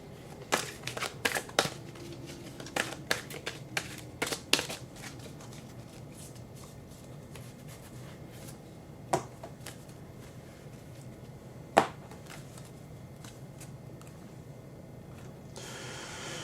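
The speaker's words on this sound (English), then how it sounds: "Let me throw two unicorn cards and see what these unicorn cards are going to tell us" Tarot-style unicorn cards shuffled close by, a burst of quick papery riffles and flicks early on, then quieter handling with a couple of isolated sharp snaps over a faint room hush.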